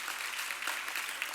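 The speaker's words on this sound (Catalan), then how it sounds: "Un fort aplaudiment per vosaltres" Audience at a closing ceremony applauding students and teachers, a brief steady patter of many hands clapping, soft and somewhat distant.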